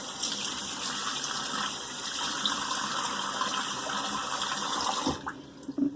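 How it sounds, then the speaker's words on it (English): Running water splashes steadily while someone rinses their face after shaving, a continuous close gush from a tap that stops abruptly near the end, followed by a few small drips and handling sounds. "Let me rinse that off."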